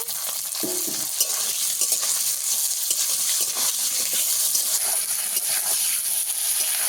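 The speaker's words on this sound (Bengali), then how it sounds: "আলুটাকে একদম ভেজে সেদ্ধ করে নিতে হবে" Potatoes fry with salt in hot oil for a fish curry, a continuous crackling sizzle broken by irregular scraping stirs of a utensil in the pan.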